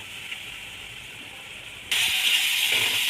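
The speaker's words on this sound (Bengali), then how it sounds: "তার মধ্যে অল্প একটু জল আমি অ্যাড করব। অল্প জল দিয়ে দিলাম। এটাকে এখন হালকা আমি মশলাগুলো কষাবো।" Spices sautéing in a pan with a splash of a little water, a steady hiss that jumps abruptly louder and brighter partway through, close and alone.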